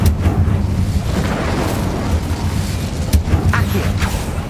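Incendio fire spell blast from the video game Hogwarts Legacy: a loud, sustained roaring burst with heavy low rumble filling the whole stretch, with a few sharper crackling pops near the end.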